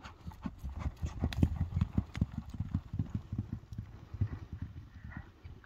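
A horse for sale walking on hard ground, a rhythmic clip-clop of hooves striking steadily in an even gait, close and distinct throughout, with no voices.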